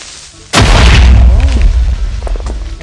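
A Minecraft creeper blows up in a sudden loud boom that rumbles and crackles as debris settles, followed by lighter game effects trailing off over a couple of seconds.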